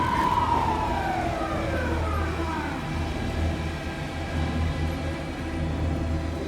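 A police car siren in the video game Alan Wake 2 wails with a falling pitch sweep over a steady low engine rumble, loud and close, continuing throughout.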